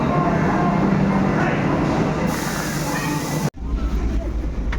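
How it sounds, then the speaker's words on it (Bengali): A steady, loud rumble of the Vande Bharat Express heard from on board, with a continuous rolling roar that briefly drops out before resuming with a deeper hum. "আমি বন্দে ভারত এক্সপ্রেসে চড়তে পারছি।"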